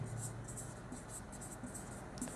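Numbers are written by hand during a class 6 math lesson, a faint run of short, evenly spaced scratchy strokes over a quiet room background.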